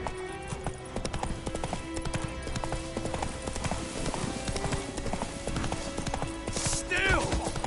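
Roach, the horse in The Witcher 3: Wild Hunt, gallops with a fast, continuous clip-clop of hooves, close and loud, and a brief whinny near the end, while a person talks over it.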